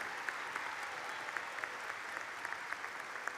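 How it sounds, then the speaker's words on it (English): Steady, fairly faint applause from a graduation ceremony audience, a soft continuous patter of many hands with a few sharper individual claps standing out. "Everyone, please join me in a round of applause."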